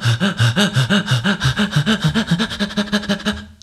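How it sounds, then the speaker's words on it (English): Rhythmic breathing in and out, used as a body-percussion beat, with about a dozen loud, close, evenly spaced breath pulses that speed up slightly toward the end. "breathing in and out is another way of making a rhythm"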